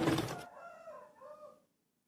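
A noisy rooster or chicken calls out with a loud burst followed by a rising, wavering crow-like cry lasting about a second, then silence.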